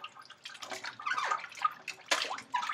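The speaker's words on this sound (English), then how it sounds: "Don't be afraid to wash the chicken." Raw chicken is rinsed in water with soft splashes, drips and sloshing, a brief louder splash near the end, quiet and close with no voices.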